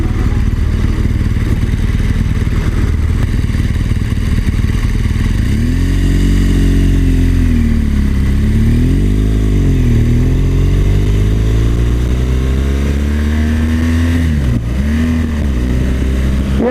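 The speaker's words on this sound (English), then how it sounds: "you can actually just let the clutch out and the bike's natural torque will actually move it along." A BMW R1200GS TE motorcycle pulls away and rides on, its boxer engine droning steadily, with pitch rising and falling through gear changes as it accelerates past, loud and close.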